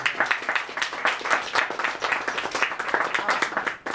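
Applause from an audience at an evening coffee gathering, a dense, steady patter of many hands clapping for several seconds, then cutting off abruptly near the end.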